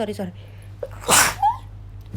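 A single sharp, close sneeze bursts out during a spoken lesson, brief and loud, with a short voiced sound just after it.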